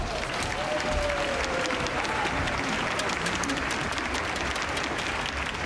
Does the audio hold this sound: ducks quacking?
no